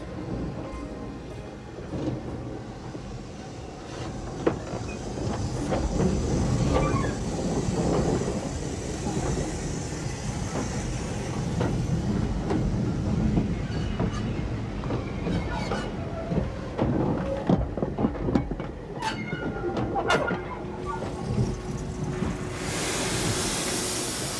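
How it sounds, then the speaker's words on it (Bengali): Train rumbling and clattering as it pulls into a station, a steady broadband roar with scattered metallic clicks and knocks, fairly loud and continuous, with a brighter hiss near the end. "একটা স্টেশনে এসে ট্রেন থামলো"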